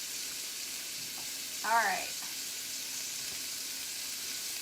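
Bacon sizzles in a frying pan with a constant soft crackle and hiss, while a person briefly speaks over it.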